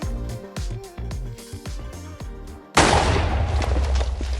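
Blocky TNT detonating in Minecraft: a loud, sustained burst of explosive noise cuts in abruptly midway, following a run of choppy, rhythmic game sounds.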